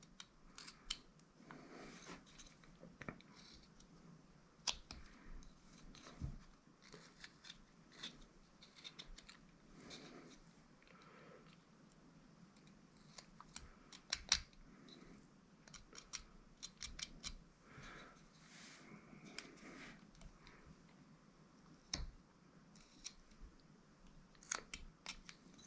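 Pocket knife carving pine wood for a small wizard figure: repeated crisp cuts and scraping snaps, irregular and close, continuing steadily with short gaps.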